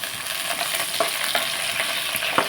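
Green chilies frying in a pan, a steady broadband hiss of oil with a few soft utensil scrapes and taps, close and moderately loud, with no talking.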